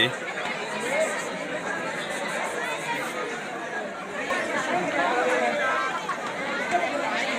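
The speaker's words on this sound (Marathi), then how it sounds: "गणपती दर्शन घेण्यासाठी ही सगळी भाविकांची गर्दी आपल्याला या ठिकाणी दिसते" Crowd of devotees at the Lenyadri Ganpati temple, a steady babble of many overlapping voices and chatter echoing around, moderately loud and continuous with no single speaker standing out.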